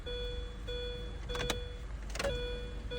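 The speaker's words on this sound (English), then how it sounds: "I can hear the fuel pump pumping, and it sounds like it's got some fuel in it" Electric fuel pump priming in a 2003 Mini Cooper S R53, a faint steady whine heard in a quiet setting, broken by a couple of short, brief clicks or rustles.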